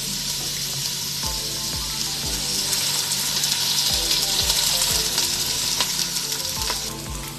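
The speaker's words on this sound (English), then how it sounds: "So I put some onions in a pot, and my mom's gonna add oil." Onions fry in oil in a pot with a loud, steady sizzle and crackle, while a utensil scrapes and stirs at a regular rhythm of soft knocks.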